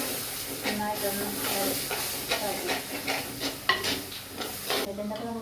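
Ground tomato paste hits a hot pan for a Wayanad-style curry, hissing and sizzling loudly up close, broken by repeated stirring scrapes and clatters in an uneven rhythm.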